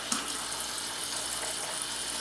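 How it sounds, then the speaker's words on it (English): Water sprays and hisses out of the hose on a GE refrigerator water filter as trapped air clears, a steady close rushing spray with a brief sputter at the start, no talking. "just kind of spray a little bit because there's a lot of air in the hose"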